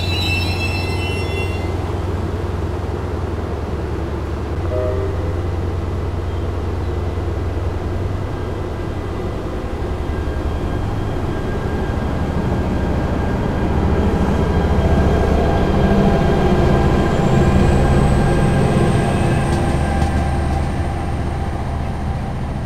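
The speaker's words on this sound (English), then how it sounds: "Dual mode locomotive." NJ Transit dual-mode locomotive train passing at Bradley Beach, New Jersey, a steady loud low rumble with a horn-like tone early on and rising high whine near the end, continuous throughout.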